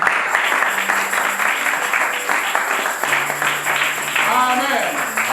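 A church congregation claps and cheers in a steady wash of applause lasting several seconds, with voices and music mixed in beneath it.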